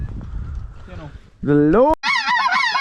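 White-fronted geese (specks) honk loudly and in chorus over a rainy dry rice field in Louisiana, a dense nearby clamor of many birds filling the second half, with a voice talking at the start.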